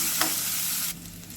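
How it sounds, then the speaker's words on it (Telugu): Chopped onions with cloves and green chillies fry in hot oil for a jackfruit curry, a close, brisk sizzle stirred briefly before quieting to a softer hiss. "ఆనియన్స్ గోల్డెన్ బ్రౌన్ కలర్ వచ్చేంత వరకు వేయించాలి."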